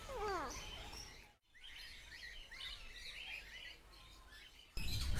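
Birds chirp and tweet in an aviary at Tirupati's Sri Venkateswara Zoological Park, a busy layer of high calls over soft outdoor background noise, with a brief dropout partway through.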